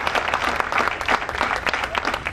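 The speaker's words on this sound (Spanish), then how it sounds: "valen los aplausos" An audience at a sculpture handover at an exhibition in Olavarría claps steadily, a dense burst of applause that stays even and fairly close.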